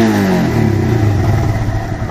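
A Royal Enfield Himalayan motorcycle engine revs steadily around 5000 RPM, a loud, continuous close-up drone with a rising then sustained pitch and no speech.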